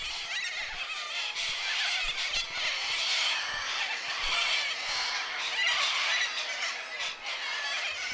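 Cockatoos in the Australian wild screech continuously, a harsh chorus of overlapping raucous calls that stays loud and dense throughout with no pauses.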